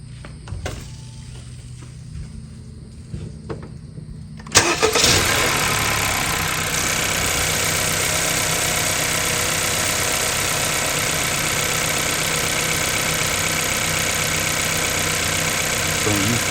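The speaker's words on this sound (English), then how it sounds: "we're about to crank it up for the first time" Honda Accord 1.5T fitted with a PRL cold air intake cranks and catches, then settles into a loud, steady close-up idle, with quieter shuffling noise before the start.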